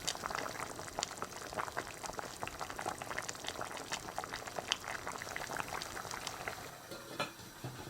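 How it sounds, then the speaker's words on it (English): Pot roast pheasant with pearl barley and mushrooms simmering in a lidded pot, a steady close bubbling and fizzing with scattered small pops running throughout, no voices. "we're going to bring that up to the boil, turn it down to simmering, put a lid on"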